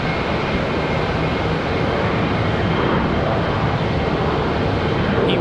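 An Envoy Embraer E175 regional jet departs Charlotte Douglas for Birmingham, its engines producing a loud, dense, continuous roar that stays strong and even throughout, heard alone and close by.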